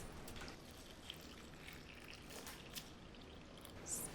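Fizzy water poured over crushed ice in a cup for a mocktail: a faint, steady splashing trickle lasting several seconds, with no talking.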